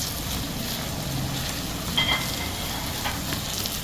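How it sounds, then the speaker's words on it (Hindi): Onions fry with ginger garlic paste and green chilies for a Mughlai moong daal, giving a steady, soft sizzle that holds evenly throughout with no voices. "यहाँ हम जिंजर गार्लिक का पेस्ट ऐड करते हैं और ग्रीन चिलीज को भी ऐड करते हैं और इसे अराउंड 2 मिनट्स तक के लिए और कुक करते हैं"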